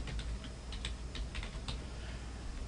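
Quiet keystrokes on a computer keyboard while entering text into an Excel spreadsheet, a short irregular run of soft clicks over faint background noise.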